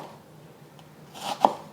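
A knife slices through an onion from top to bottom on a board, a soft cut followed by a single sharp thud of the blade, close and clear in a quiet kitchen.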